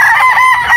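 A broadcock gamefowl rooster on a game farm lets out a loud, raspy, wavering crow very close by, a single sustained call with no one speaking.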